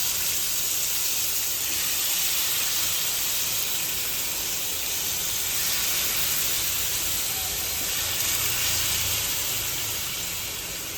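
Chicken pieces sit in hot oil over a low flame, roasting in a pan rather than an oven, and give off a continuous, even sizzling hiss that stays loud and close throughout without talk.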